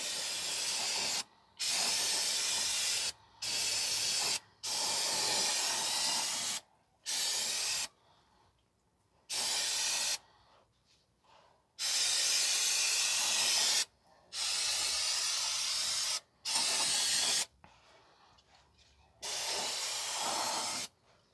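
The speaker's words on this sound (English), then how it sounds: "wash everything down with some brake cleaner" Brake cleaner sprays in repeated loud hissing bursts of a few seconds each, separated by short pauses, while washing down the drivetrain of a 2015 Toyota Sienna 3.5 V6 AWD after a transfer case and differential service.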